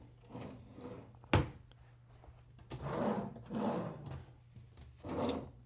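A wooden chest of drawers in a hotel room, its drawers sliding open and shut with rubbing wooden scrapes and one sharp knock, close and moderately loud.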